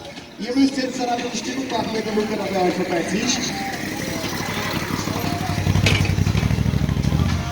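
A motorcycle on the Grossglockner Alpine Pass idles and rumbles close by, its engine steady and somewhat rattly and swelling louder toward the end, with someone talking over it throughout.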